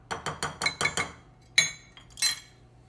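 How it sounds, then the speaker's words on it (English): A whisk clinks rapidly against a bowl while salt and cocoa powder are mixed in, six quick metallic taps in a steady rhythm, then a pause and two more sharp strikes, close and bright. "We'll now whisk it into the mixture."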